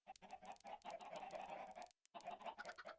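Chickens in Minecraft cluck in a quick run of close, fairly loud notes, broken by a brief pause before another burst of clucking.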